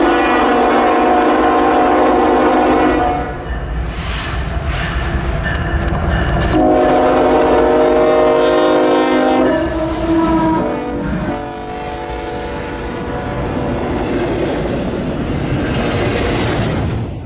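A CSX intermodal freight train led by GE locomotives rumbles steadily past, with a loud sustained multi-tone horn blaring at intervals over the low rolling noise.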